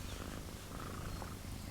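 A cat purrs close up in a quiet room, a steady low rumbling vibration that runs unbroken and alone.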